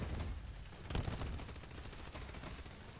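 Gunfire in the Call of Duty video game crackles as a dense, continuous burst of rapid shots, moderately loud and steady throughout with no clear speech.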